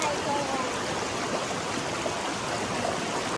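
Water from a stream flows far below a bridge in Stanley Park, a constant broadband rush with no clear breaks.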